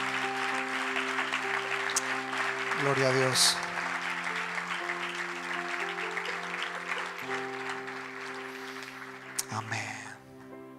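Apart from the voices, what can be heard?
congregation applause in church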